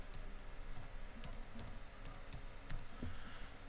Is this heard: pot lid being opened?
no